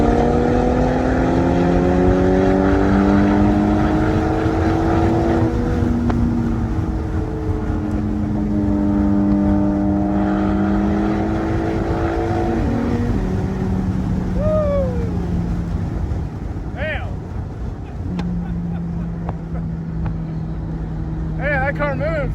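A McLaren 765LT Spider pulls hard through its gears, the engine note rising and shifting repeatedly over about twenty seconds, heard from inside the car with occupants talking and exclaiming over it.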